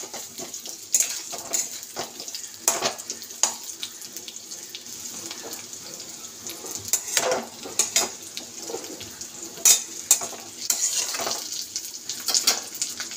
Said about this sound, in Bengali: তো আলুটা একটু ভাজা হোক।